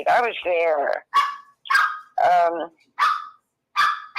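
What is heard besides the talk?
Maltese dog barking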